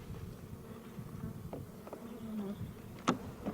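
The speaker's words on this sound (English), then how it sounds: "The bees are up on the top in the halves." Honeybees humming in an opened beehive on a farm, a steady low buzzing swarm close by, with a few brief knocks and clicks as sections are disturbed.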